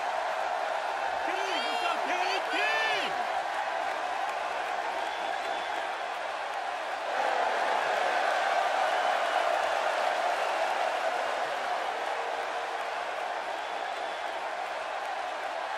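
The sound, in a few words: arena crowd noise in the video game WWE 2K16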